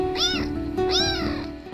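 A domestic cat meows twice, two drawn-out calls a little under a second apart, heard close and clear against a quiet background.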